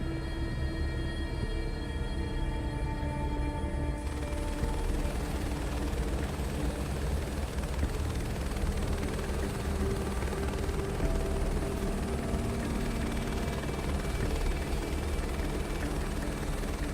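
Steady, loud drone of an aircraft in Microsoft Flight Simulator 2024 as it comes in to land on a hillside, a constant engine and rotor-like hum with a slight shift in tone partway through and no voices.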